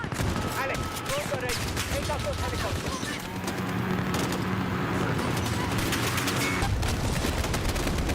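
Gunfire in the Call of Duty: Modern Warfare (2019) campaign, a dense, continuous fusillade of rapid shots and booms from a game battle, loud and sustained with a voice speaking briefly over it.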